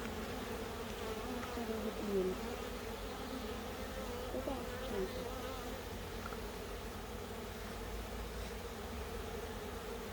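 Honeybees buzzing in an opened hive, with a dense, steady, close drone and occasional individual bees passing nearby, and no talking.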